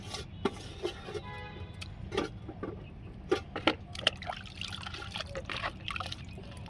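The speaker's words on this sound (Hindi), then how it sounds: "ये 1 लीटर का मग्गा है, इस बाल्टी में पानी डाल रहे हैं और इसी में ये कसा हुआ सारा आलू डाल दे रहे हैं।" Water is poured from a one-litre mug into a bucket holding grated potato, giving soft trickling and splashing with a few sharper drips and knocks, close by and fairly quiet.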